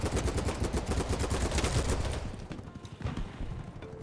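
Rapid automatic gunfire from a high-damage, high-recoil gun in the shooter game BattleBit Remastered, a dense burst of close, punchy shots for about two seconds, then sparser scattered shots fading under game ambience.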